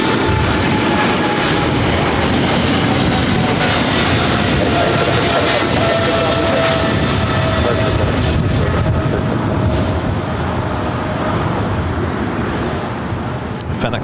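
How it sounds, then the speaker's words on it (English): A FedEx Boeing 777 freighter takes off at LAX with a loud, sustained jet roar and wind buffeting across the whole stretch, fading slightly toward the end. "FedEx 777 and freighter taking off 25 left"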